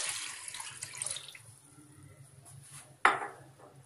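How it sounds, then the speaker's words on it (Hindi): About two liters of water is poured into a cooking pot for a desi chicken yakhni, a bright rushing pour that fades out, then a sharp clatter near the end. "सबसे पहले हमें ऐड करना है पानी, और पानी में ले रही हूँ तकरीबन 2 लीटर"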